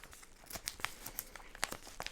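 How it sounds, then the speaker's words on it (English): A cardboard mystery box holding a Louis Vuitton x Supreme hoodie is torn open by hand, with quick close ripping and crinkling bursts in an irregular run, quiet and free of talk. "now we've got to move on to opening the actual box"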